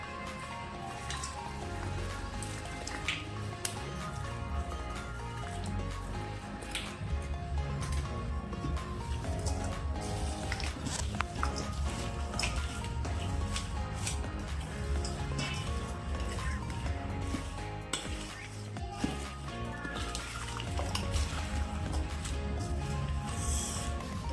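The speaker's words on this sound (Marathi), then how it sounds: "त्यामध्ये फ्राय केलेल्या या मच्छी आहेत यामध्ये टाकून घ्यायची आणि मिक्स करायचं।" Fried fish pieces being mixed by hand into oily pickle masala, a steady wet crackling and patter that runs throughout with a busy, dense texture and no voices.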